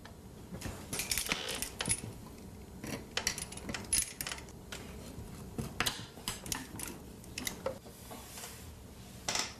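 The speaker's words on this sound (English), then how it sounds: "I begin by tacking the warp to the underside of the seat rail." Shaker tape warp of woven cotton is tacked to the underside of a chair seat rail, with a rapid clatter of small metallic clicks and taps, close and busy throughout, with no voices.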